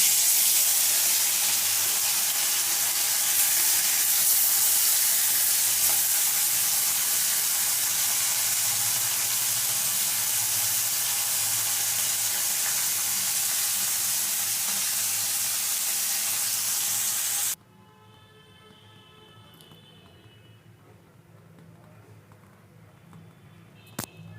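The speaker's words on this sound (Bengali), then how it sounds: "বাকি মাছগুলো এইভাবে ভেজে নেব" Amudi fish sizzle and hiss steadily in hot oil for a long stretch, fairly loud and close, before the frying noise cuts off abruptly to a quiet background.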